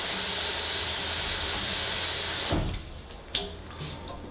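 Hot water gushes from a tap in a loud, steady hiss, then cuts off, leaving a quieter trickle and a small clunk.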